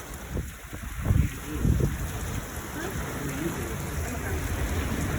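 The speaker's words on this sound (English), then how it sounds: "Look at this rain though, that's crazy." Heavy rain and gusting wind from a North Dakota storm roar steadily, with buffeting microphone wind noise and louder bursts early on, and a voice speaking briefly over the downpour.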